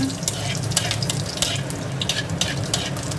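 Whole cumin, cloves, cardamom and cinnamon stirred around in hot oil, with a steady close sizzle and repeated scraping strokes of a spoon against the pan.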